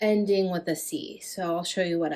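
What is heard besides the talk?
No distinct noise like a dog, phone or traffic.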